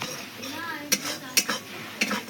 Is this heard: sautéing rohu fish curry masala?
yes